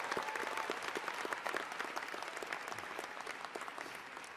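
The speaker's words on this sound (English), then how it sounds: "How about a big round of applause for the family and friends who are with you every step of the way?" Graduation ceremony audience applauding for family and friends, a dense steady wash of many hands clapping that carries on throughout and eases slightly toward the end.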